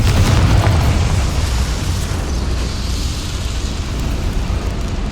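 Confringo fire spell detonating in Hogwarts Legacy, a loud, sustained booming blast with rumbling low end that holds steady for several seconds without fading.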